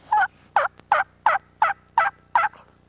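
Seven evenly spaced yelps from a turkey mouth call, a crisp rhythmic sequence imitating a hen turkey, clear and close.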